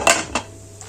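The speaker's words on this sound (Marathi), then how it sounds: "आता आपण याच्यावर झाकण ठेवूया" A metal lid is set onto a pan of frying green chickpea kachori, two quick clanks close by, a sharp first hit and a softer second, followed by quiet fry hiss.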